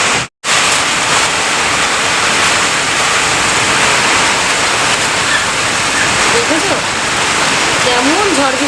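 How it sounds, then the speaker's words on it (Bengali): Heavy rain pours down in a loud, steady roar of dense hiss that stays close and unbroken throughout, with only a brief dropout near the start. "এদিকে দেখো কীভাবে বৃষ্টি হচ্ছে"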